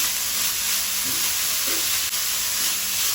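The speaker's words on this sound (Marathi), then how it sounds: "सारण करता आसतना आमी अशें ढवळीत रावपाक जाय, मिक्स करत रावपाक जाय" Grated coconut and jaggery for modak filling fry in a pan, giving a loud, steady, close sizzling hiss with faint stirring scrapes underneath.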